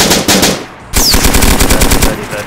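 Automatic gunfire in the video game DayZ, a rapid close burst of loud shots that breaks off briefly and then resumes as a sustained stream.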